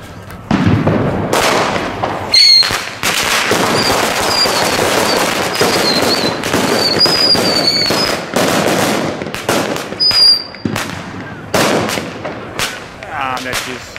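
Loud Spanish firecrackers bang and crackle in rapid, irregular bursts close by, with whistling rockets and voices in between.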